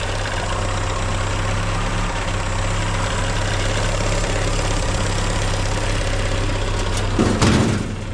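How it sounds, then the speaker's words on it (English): A 1953 Willys CJ3B's Hurricane engine idles steadily and close by, a constant low rumble with loose fenders rattling, and a brief louder burst near the end. "The little Hurricane engine is purring"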